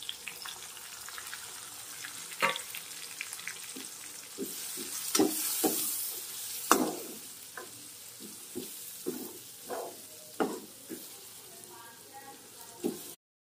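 Tomato, chili, onion and spices fry in a pan at home while fish is being cooked, giving a steady close sizzle broken by repeated scraping stirs and knocks of a spoon against the pan.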